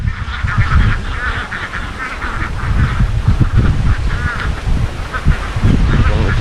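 A flock of ducks quacks loudly and continuously, with overlapping nasal calls forming a dense, chattering din that lasts the whole stretch.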